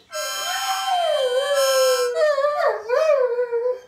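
A Dalmatian howls as if singing, a close, loud, sustained tone that bends up and down in pitch and then breaks into shorter wavering notes, with no other voices.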